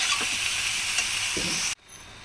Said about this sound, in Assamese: এতিয়া আমি অকণ সময়ৰ বাবে ভাজি ল'ম।